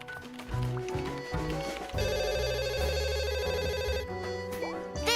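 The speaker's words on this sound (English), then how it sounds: "There's a phone ringing." An old-style telephone rings in the Duck Detective video game, its bright repeating bell tones ringing out clearly over tonal game music with no talk.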